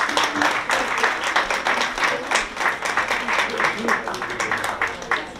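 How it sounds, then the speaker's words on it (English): An audience at a charity walk fundraiser applauds with loud, steady clapping that fills the whole stretch, with voices mixed in beneath. "So big round of applause for her."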